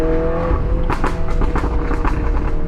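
A car engine rumbles loudly while a rapid series of sharp pops and crackles bursts from the exhaust, close and irregular.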